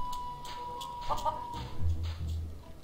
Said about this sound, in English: Plunder Island Feral Chicken. One of Plunder Island's most common fauna